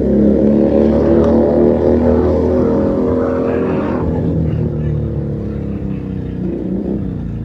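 Keeway SCR 250 motorcycle fitted with a Rez Speed aftermarket exhaust, running with a steady, loud, throbbing engine note that holds continuously and eases slightly toward the end, heard alone without talk.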